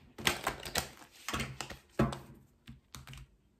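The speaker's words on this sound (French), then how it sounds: "je vais quand même couper le jeu." Deck of tarot or oracle cards being cut and shuffled by hand during a reading, a quick run of close, crisp riffling and tapping bursts, fairly loud and without speech.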